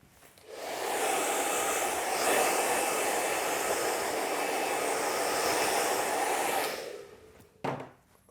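Hair dryer blowing during a haircut, a steady loud whoosh running about six seconds before cutting off, followed by a brief thump.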